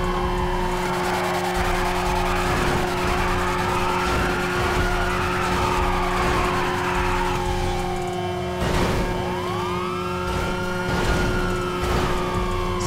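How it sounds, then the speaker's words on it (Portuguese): A truck pulling away in GTA, with a steady engine drone running throughout, sliding pitch sweeps and tire squeal on top, and a few sharp knocks near the end, loud and continuous with no talking. "O caminhão vai sair."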